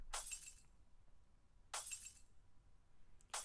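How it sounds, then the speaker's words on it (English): Heavy glass breaking, layered as part of a snare hit in an EDM beat, strikes three times with bright shattering bursts and short ringing tails, separated by quiet gaps. "There's some heavy glass breaking in there"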